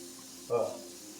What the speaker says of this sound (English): now we're going to dump the chicken in